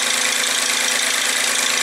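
The exhaust of a BMW 328i gives off a steady, loud, hissy rush and hum at idle, held close and unbroken with no voices over it.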